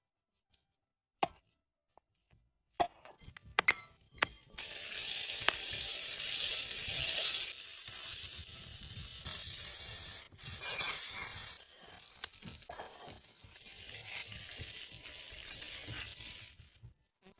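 Fresh jungle mushrooms cook over a bonfire outdoors. A few sharp taps and knocks come first, then a steady, fairly loud sizzle and crackle that rises and falls, with no talking.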